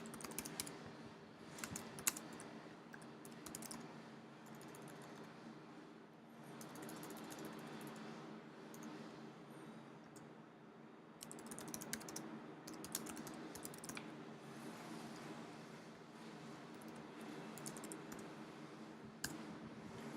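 Fingers type in quick irregular bursts on a computer keyboard, close and quiet, with soft clicks and short pauses throughout.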